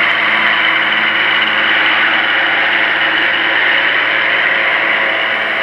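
A heavy Ford 6000 series tractor engine runs at a steady, loud drone with a rhythmic mechanical chug and no change in pace.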